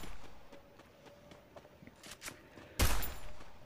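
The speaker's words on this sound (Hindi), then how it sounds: "तो अभी हम फिर से लेते हैं यही एम पी फाइव तो वैसे कोई दिक्कत की बात नहीं जब हमारे हाथ में कोई भी गन हो तो हम उसी से उड़ा लेते हैं" MP5 gunfire in a video game: one loud, close burst near the end follows faint scattered footsteps and clicks.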